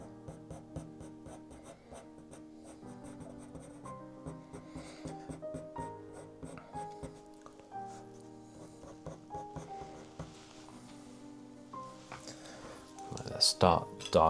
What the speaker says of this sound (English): Here I'm just using my Staedtler and I've just gone into actually the indented mark.